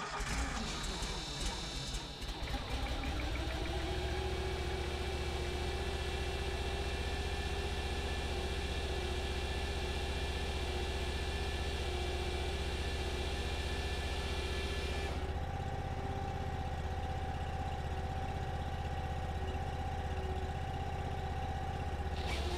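A Cord King M18-20 chainsaw engine starts with a few rough sputters, then settles into a steady, loud droning run at close range, and the pitch shifts partway through.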